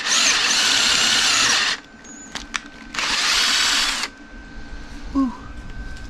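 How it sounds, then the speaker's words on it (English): A power drill bores out motor mount bolt holes to the next size up on a torque plate for a Quad Trac mini snowcat: two loud, sustained drilling bursts separated by a pause with small clicks and clatter. "we're gonna drill them out to the next size up"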